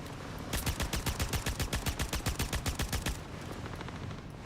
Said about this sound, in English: The gallant rifle's kind of interesting. This is like my first time using it actually